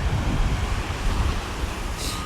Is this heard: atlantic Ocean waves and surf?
yes